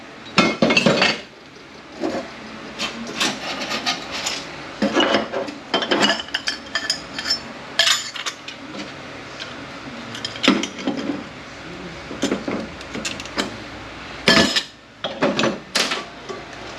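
Metal pistons and snap rings clink and clatter as parts come out of a ZF6HP28 automatic transmission during disassembly, with irregular sharp taps and scrapes at close range.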